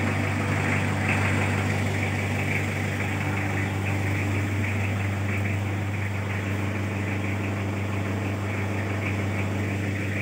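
A cold Toyota Revo Tamaraw FX diesel engine idling: a steady, close, rumbling drone with a low, even hum that holds without change from start to finish, with no voices.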